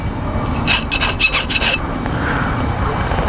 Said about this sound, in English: run it over the file gently